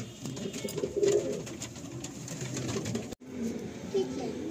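Pigeons cooing in a racing pigeon loft in Kolkata, soft repeated throaty coos close by, with a person speaking over the birds throughout.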